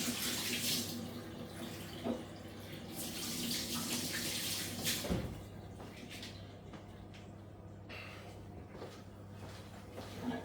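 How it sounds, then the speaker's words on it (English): A kitchen tap runs into a sink while hands are washed, a steady stream of water that eases midway, with a sharp knock or clunk near the middle. "Right, let's wash my hands again."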